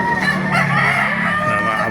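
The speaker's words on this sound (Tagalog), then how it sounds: "Dami pang manok" A loud, close chorus of chickens at a Baliuag animal market, with overlapping crowing and clucking filling the whole short stretch over a crowded market background.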